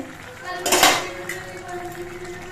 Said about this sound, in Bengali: মিনিট পাঁচের পর আমি ঢাকনাটা খুলে নিচ্ছি